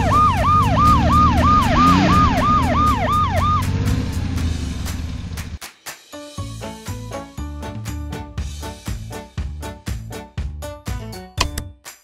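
A police car siren in a children's color-learning mini car game wails in loud rising and falling sweeps for several seconds, then gives way to bright, bouncy game music with plinking notes.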